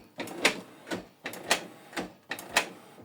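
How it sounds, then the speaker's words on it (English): Canon Pixma TS3751i printer recognizing newly installed ink cartridges, giving a series of six faint, evenly spaced mechanical clacks and whirs about half a second apart. "you give the printer time to recognize the ink cartridges"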